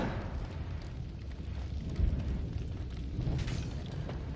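Rumbling explosion tearing through terrain in the game Noita, a low, continuous roar with a heavier thump around the midpoint, steady and fairly loud throughout with no voices.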